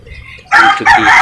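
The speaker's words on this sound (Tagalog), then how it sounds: "Ayan ang ingay ng manok." Chickens kept on a rooftop deck crow and cluck loudly and close by. A short quiet stretch with brief speech comes first, then a strong crow bursts out and runs to the end.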